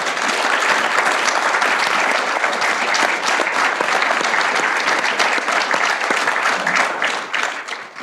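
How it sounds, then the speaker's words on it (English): An audience at a transit conference applauds a panel, dense, even clapping that holds steady and then begins to thin out at the end. "Let's give them a round of applause"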